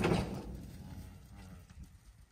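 A single low, drawn-out moo from a cow, loud at the start and trailing off, with outdoor rustling behind it.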